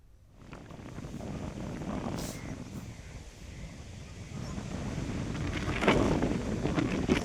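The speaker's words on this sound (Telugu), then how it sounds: "తాళ్లరేవు మండలం యానాం ప్రాంతాల్లో బలమైన గాలులు వీస్తున్నాయి." Strong cyclone winds sweep the coastal Yanam area near Kakinada, roaring and buffeting steadily against the microphone and swelling louder toward the end, with no voices.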